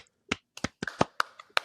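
A single voice imitates fans clapping in a stadium after they chant the name of football player Dalvin Cook: about eight sharp, dry claps or taps, irregularly spaced, close and fairly loud.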